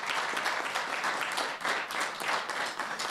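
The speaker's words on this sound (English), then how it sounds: "Let's give a round of applause for all our speakers." An audience at a general aviation conference applauds its speakers, a dense, continuous patter of many hands clapping at once, fairly loud and sustained with slight swells, no talk on top.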